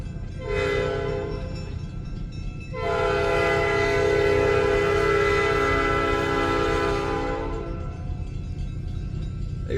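SD40-2 locomotive passing, sounding its horn: a short toot first, then a long, loud blast over a steady rumble of rail noise.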